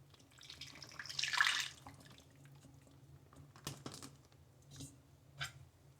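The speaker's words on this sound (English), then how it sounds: "big bag of beef, and into that we shall pour our marinade." Marinade is poured into a big bag of beef in one short, soft liquid splash, followed by faint plastic rustles and light taps in a quiet kitchen.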